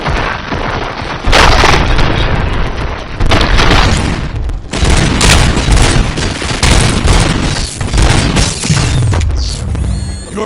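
Gunfire and explosions from the video game RoboCop: Rogue City erupt loudly in dense, repeated bursts of shots and booms that nearly fill the passage, with brief lulls between volleys.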